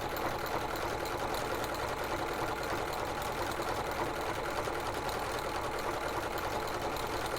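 A sewing machine runs nonstop while stitching quilt fabric, poorly because the needle is too small for the thread, producing a steady, dense mechanical hum across the whole stretch without talk.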